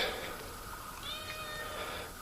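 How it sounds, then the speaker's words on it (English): A cat gives a few faint meows in a workshop where an ATV lift winch support is being built, soft and fairly distant against a quiet background hiss. "I got an attack cat coming at me."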